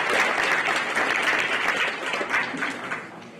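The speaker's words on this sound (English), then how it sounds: "If you would just give them a final round of applause," An audience gives the University of Namibia Choir a final round of applause at a health workforce investment forum: dense, steady clapping from a large crowd that holds loud for about three seconds, then begins to taper.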